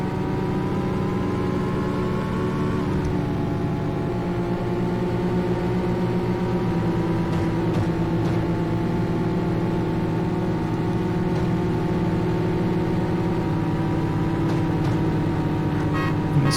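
Sustained droning whine of a Lamborghini engine racing in the 1995 Need for Speed game, revving with subtle pitch shifts during gear changes and holding a steady, loud tone throughout.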